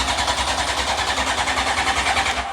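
A motorbike engine fitted in a Piaggio scooter is cranked without catching, giving a loud, fast, rhythmic churning pulse that runs steadily for a couple of seconds and then cuts off abruptly.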